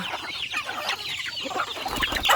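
Dekalb laying hens cluck continuously at close range, with overlapping soft chattering calls in a farmyard and no voices.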